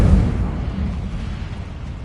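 The Incendio fire spell cast in a Harry Potter video game, a loud low booming burst at the start that rumbles and fades over about two seconds.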